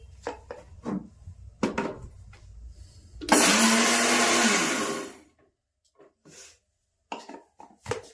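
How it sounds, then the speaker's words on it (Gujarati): A mixer grinder whirs loudly as it grinds roasted black sesame seeds for kachariyu, one steady burst of about two seconds, with quieter kitchen clatter before and after. "તલ શેક્યા પછી મિક્સરમાં થોડીક વાર જ હાલવા દેવાનું"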